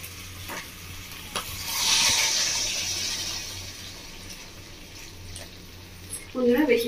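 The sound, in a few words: pouring hot water into mutton curry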